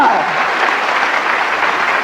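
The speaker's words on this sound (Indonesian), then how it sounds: "Tepuk tangan bagi Allah kita." A church congregation claps together in a loud, dense burst of applause during a sermon, holding steady for a couple of seconds with a brief voice at the very start.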